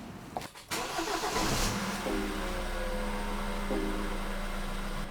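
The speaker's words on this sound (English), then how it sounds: "I am going to turn on the engine to check if there is any engine lights coming on." A car engine with its hood open cranks briefly and catches, then settles into a steady, even idle, close and loud with no talking.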